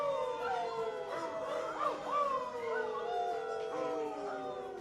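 A crowd of bar patrons in a werewolf movie howls together, several long wavering voices rising and falling in overlapping wolf-like cries, loud and sustained, imitating werewolves.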